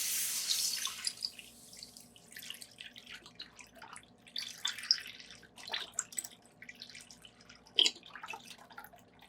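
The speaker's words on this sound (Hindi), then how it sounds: "इसके अंदर दूध डालेंगे।" Milk being poured into a pot for shahi kheer, a soft liquid splashing and trickling at first that tapers into scattered faint drips and clinks of the pot.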